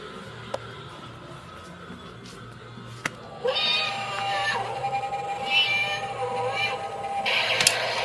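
A cat meows repeatedly in a string of drawn-out, wavering cries that grow louder partway through, over a faint low hum with a few sharp clicks and light background chatter.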